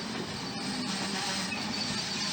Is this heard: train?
yes